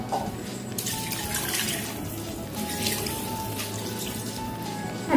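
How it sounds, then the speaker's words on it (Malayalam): Water pours steadily into a cooking pot while chicken majboos, an Arabian rice dish, is being made, a continuous splashing, gurgling stream that runs nearly the whole time at close range with no talk. "അപ്പോൾ 3 ഗ്ലാസ് വെള്ളം ഒഴിച്ചു കൊടുക്കാം"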